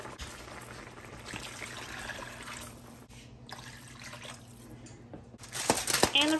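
Water pours into a cooking pan in a steady trickling stream that swells louder near the end, close by with no speech.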